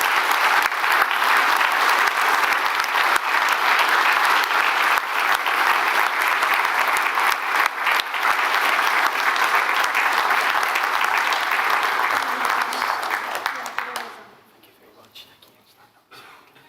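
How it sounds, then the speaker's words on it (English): An audience at a cardiac arrest symposium claps for award-winning students collecting certificates, a dense, loud, continuous wash of applause that holds for about fourteen seconds before quickly fading to near quiet. "When you come, give them a big clap."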